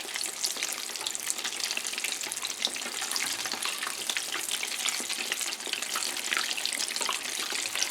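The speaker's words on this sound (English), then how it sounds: "So all the bubbles and the sound you're hearing is water escaping these cheese sticks." A continuous crackling sizzle of cheddar and mozzarella sticks deep frying in hot oil, dense bubbling pops steady throughout, close and moderately quiet.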